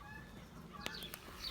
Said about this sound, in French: 10 poules, 3 coqs.